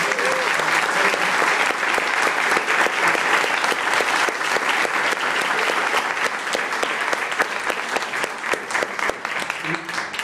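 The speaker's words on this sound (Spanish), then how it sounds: "Un aplauso, por favor." Sustained audience applause at a book launch event, dense clapping from a seated crowd that carries on evenly and tapers slightly at the end.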